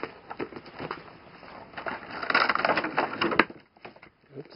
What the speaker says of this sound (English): So let's go ahead and open up this packaging